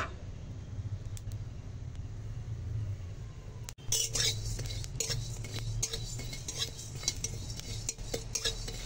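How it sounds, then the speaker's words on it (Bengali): Fennel seeds dry-roast in a kadai, with a metal spoon scraping and clinking against the pan over a low background rumble, close and continuous after a brief pause. "আর এখন একটু মৌরি কাঠকলায় গরম করে নেব।"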